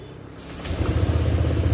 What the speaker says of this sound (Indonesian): Sekali tekan motornya langsung hidup.